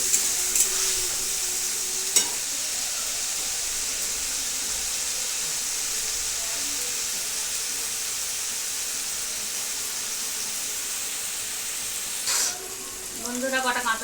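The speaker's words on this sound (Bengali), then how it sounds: "এবার এটা ভাজা হবে" Tomato frying in a pan, a steady broadband sizzle that holds evenly throughout, with a brief clatter near the start and a short burst of voice near the end.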